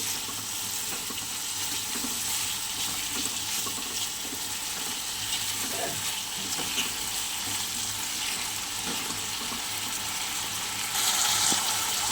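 Spices tempered with green chilli, salt and turmeric sauté in a pan for papaya, potato and prawn curry, a steady broad hiss of sizzling oil running throughout with faint stirring scrapes, close and continuous, without talk.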